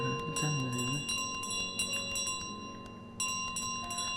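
Small gold bell rings in Untitled Goose Game, a few light chimes with steady tonal ringing over quiet game ambience, moderately soft and close.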